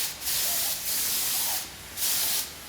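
A spray gun lays a light tack coat of paint on a Fitzgerald 841 tractor in three close, hissing bursts separated by short gaps.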